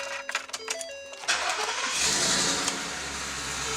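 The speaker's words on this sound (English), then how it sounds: "let's poke the key in here so we can start up" A 2021 motorhome chassis engine cranks over with the key and catches, settling into a steady, fairly loud idle after a second or so of starter whir.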